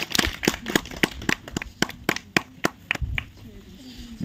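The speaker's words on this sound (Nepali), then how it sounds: "सर्वप्रथम एउटा जोरदार तालीको साथमा हामी अगाडि बोलाउँ हाम्रो रोजन सरलाई" Rhythmic hand claps welcoming a teacher at a gathering in a remote village, a steady beat of sharp individual claps from a small group, fairly close, with faint voices underneath.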